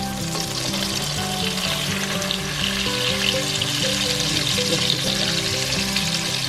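Salisbury steak patties frying in a hot pan, a loud continuous sizzle and crackle with a low steady hum underneath, close up and without talk.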